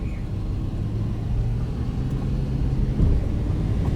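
A 2016 Lamborghini Huracan creeps slowly over a bump, its engine giving a low, steady rumble that holds level throughout with a slight swell near the end.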